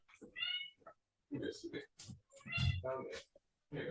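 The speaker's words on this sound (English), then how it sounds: "I'm actually gonna let my cat out." A house cat wanting to go outside meows several times, soft drawn-out calls mixed in with a nearby person's talking at low overall level.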